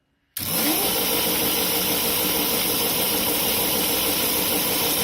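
Electric motor of a Power Racing kart, at a makerspace, starting abruptly and spinning at a steady high speed, a loud continuous whirring drone close by with no change in pitch.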